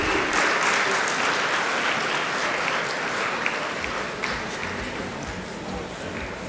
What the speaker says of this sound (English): A huge round of applause to welcome all our dignitaries.